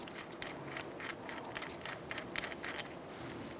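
A ratchet backs off the front axle nut of a 2012-2017 Hyundai Accent 1.6L during a CV axle replacement, giving a steady run of close, crisp metallic clicks with no talking.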